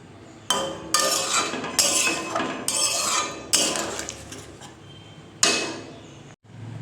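A metal spoon clinks and scrapes repeatedly against a pan and bowl as paneer curry is served out, sharp close knocks in an uneven rhythm with short pauses, no voices.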